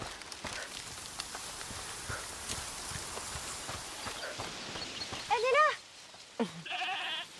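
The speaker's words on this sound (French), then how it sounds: "Bon, on va essayer de libérer la chèvre." A goat bleats twice in A Plague Tale: Requiem, short wavering cries near the end over a soft game ambience with faint footstep-like clops.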